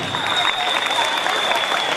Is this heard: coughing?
no